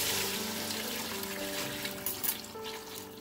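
Water pours steadily into a pot of fried rice, several glasses' worth added for the rice, giving a continuous, fairly loud splashing and gushing with no voices.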